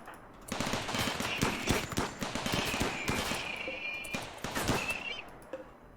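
Automated turret fire in the RimWorld video game rattles off in fast, dense bursts of rapid shots, loud and continuous for several seconds before thinning out near the end.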